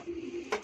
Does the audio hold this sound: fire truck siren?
no